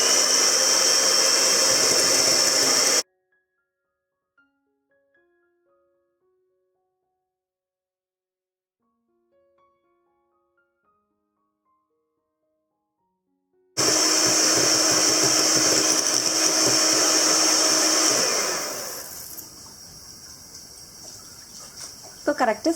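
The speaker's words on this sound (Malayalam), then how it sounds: "2 ടേബിൾ സ്പൂൺ പഞ്ചസാര മുട്ടയുടെ വെള്ളയിലേക്ക് ചേർത്തിട്ടാണ് മുട്ടയുടെ വെള്ള സ്റ്റിഫ് പീക്ക് ആവുന്നവരെ ബീറ്റ് ചെയ്തെടുക്കേണ്ടത്." An electric beater whips egg whites with sugar to stiff peaks in a cake recipe, a steady loud motor whine that cuts out for a long silent stretch, then returns and eases to a lower hum.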